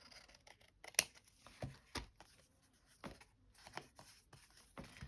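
Scissors snip through paper while trimming a field notes journal, a few sharp separate cuts spaced about a second apart, close and fairly quiet, with faint rustling between them.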